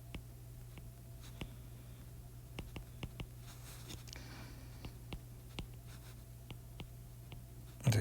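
Chalk or marker writing on a classroom board during a lecture: a faint, sparse series of short taps and scratches over a steady low hum, with no talking.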